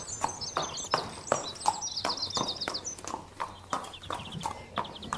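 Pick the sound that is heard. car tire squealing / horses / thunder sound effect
horses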